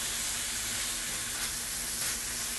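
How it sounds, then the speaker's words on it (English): Lemon juice sizzling off in a hot pan of pork and peppers, a steady broadband hiss with a low hum beneath, continuous and fairly close, no voices. "I'm cooking off that lemon juice"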